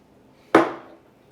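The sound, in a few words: lid placed into the water moat of a sauerkraut fermentation jar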